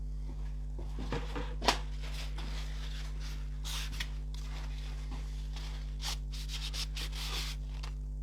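Knife blade rubbed across an NSK Oboro 400 sharpening stone, giving soft, repeated scraping strokes in an irregular rhythm, faint and close over a steady electrical hum, with no talk.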